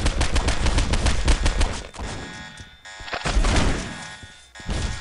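Police gunfire in the video game Postal 2 comes as rapid, loud bursts of shots, a dense volley, then a brief lull before another volley, with no talking.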